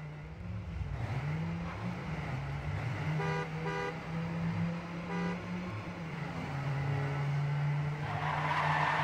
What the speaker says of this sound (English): There's a lot of honking going on.